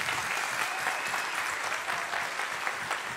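Audience applause at a live Brazilian television variety show, steady dense clapping from a large crowd held at an even level throughout with no pauses.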